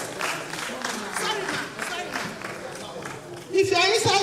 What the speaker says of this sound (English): Another round of applause for John Vance.